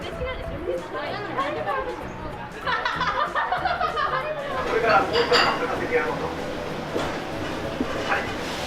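A busy ramen restaurant in a tiny Japanese town fills with steady diners' chatter and the clink of bowls, dishes and cutlery, with voices talking close by over the clatter.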